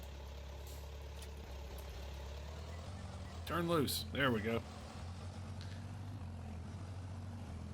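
Tractor engine in a farming simulator game idles with a steady low rumble throughout, while someone talks briefly over it in the middle.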